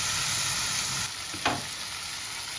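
Tomatoes frying with masala in a pan and being stirred, a soft steady sizzle with a single sharper scrape or clink partway through, close and fairly quiet.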